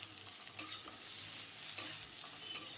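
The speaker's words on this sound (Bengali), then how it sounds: "তো চিনিটা দেওয়ার পরে একটু আমি নেড়ে চেড়ে নিচ্ছি।" Paneer curry with sugar being stirred in a pan: a soft, steady sizzle with a few faint scraping strokes, quiet and close, with no voices.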